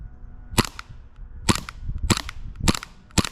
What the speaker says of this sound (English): our airsoft gun of choice is the SSP-18